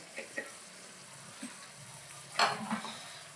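Chili powder being stirred through meat pieces in a frying pan for Andhra-style chappal pulusu, a few soft scrapes and clinks over a faint, steady sizzle, with one louder scrape near the end.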